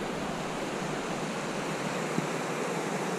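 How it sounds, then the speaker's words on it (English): Steady broadband rush of the West Walker River flowing strongly, a continuous close wash of water with no break or voices. "The river's flowing pretty good right now."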